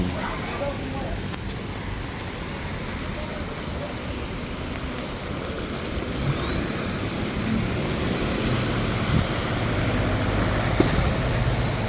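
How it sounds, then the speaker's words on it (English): Steady rumble of afternoon Main Street traffic in rain with heavy trucks passing, and a rising whine late on, all under a constant wet road hiss. "And we've got afternoon traffic on Main Street."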